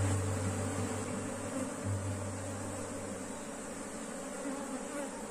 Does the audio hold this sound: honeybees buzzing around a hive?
yes